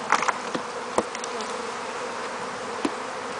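Honey bees hum around an opened hive outdoors in spring, a steady, soft, close buzz with a few louder passes as single bees fly near.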